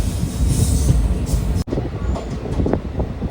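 A short Intercity Express train on the Tirupati to Tiruvannamalai line rumbles past close by, a steady loud roar of wheels and carriages with a brief break midway, then clattering on.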